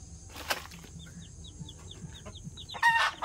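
Chicks peep in a quick, regular series of high chirps close by, while adult chickens cluck in the background and a louder squawk bursts out near the end.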